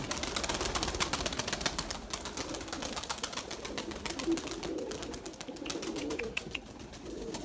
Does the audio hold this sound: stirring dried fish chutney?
no